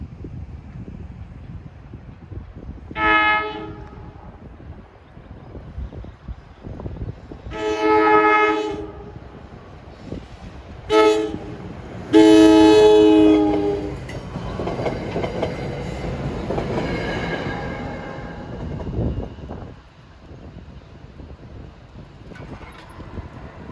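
Princeton Dinky shuttle train returning to Princeton at the Faculty Road crossing, sounding several loud horn blasts over the rumble of the passing cars on a busy single-track line.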